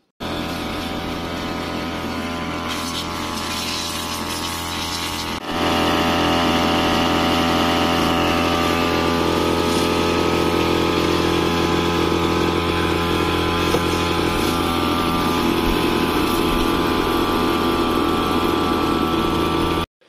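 Motor-driven water pump running to spray and wash a tractor, a loud, continuous close engine drone that steps up in level partway through and holds steady to the end, with no talk.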